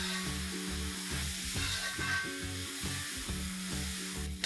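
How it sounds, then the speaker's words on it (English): Chopped tomatoes sautéing with golden onions, a quiet steady sizzle with soft stirring scrapes, set against a faint rhythmic low hum in the background. "I'm going to saute this till the tomatoes are nice and soft"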